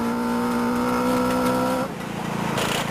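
A 1990 Vauxhall Nova rally car on a stage through a difficult section, loud engine drone that drops off abruptly as the driver lifts, followed by rougher rumbling and gravel noise.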